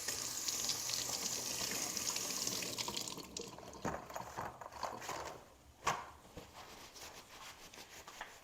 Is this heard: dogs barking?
no